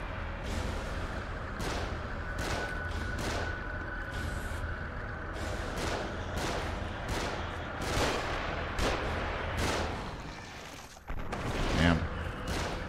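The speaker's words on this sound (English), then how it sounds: "They're shooting from above." Repeated gunfire from enemies shooting down from above in The Evil Within, sharp bursts recurring every second or so over a busy rumbling game soundscape, with a heavier impact near the end.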